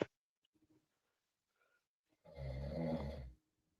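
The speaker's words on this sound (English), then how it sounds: "I hear snoring." A person snoring nearby in a quiet room, a single drawn-out snore about a second long after near silence with a few faint small noises before it.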